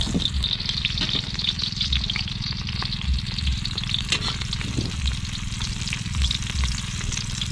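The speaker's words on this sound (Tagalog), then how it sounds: "lagyan ko na ng mantika. Okay na, piprito muna tayo ng tuyo." Dried fish (tuyo) frying in hot cooking oil, a steady close crackling sizzle with sharp pops scattered throughout, no talking.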